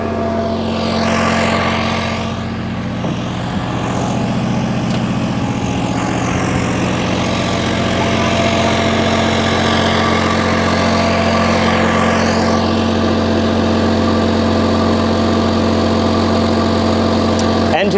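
A large MEP-1040 military generator engine drones steadily and loudly throughout, a constant low hum with mechanical rumble, close by and unbroken.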